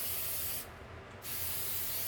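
A light mist coat of Angelus dye is sprayed onto a Telecaster guitar neck, a steady close hiss that dips briefly in the middle and resumes.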